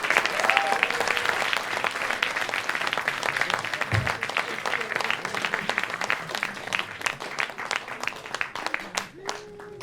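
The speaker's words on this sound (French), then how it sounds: "vous pouvez l'applaudir très fort." Loud, sustained applause from a concert audience, dense and continuous clapping with some crowd voices mixed in, tapering slightly toward the end.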